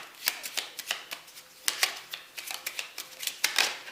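Tarot cards are shuffled and drawn in a quick series of crisp riffling flicks and snaps, close and clear, with no talk.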